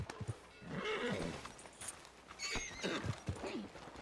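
A horse whinnies and snorts in Red Dead Redemption 2, with hoofbeats clopping and brief shifts of movement, fairly close and loud throughout.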